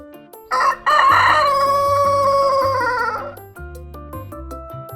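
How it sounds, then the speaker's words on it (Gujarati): A rooster gives one loud, drawn-out cock-a-doodle-doo lasting a few seconds, set against a bright, tuneful musical backing that continues after the crow fades. "કૂકડો કુકડે કૂક કરે,"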